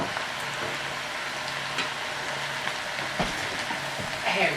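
Vegetables sauté in a pan for smothered catfish, a steady soft sizzle and crackle close by, with light stirring ticks and no talking.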